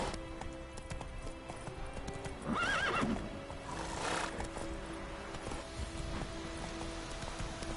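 Roach, a horse in The Witcher 3, clip-clops steadily at close range and lets out a clear neigh partway through, with game ambience underneath.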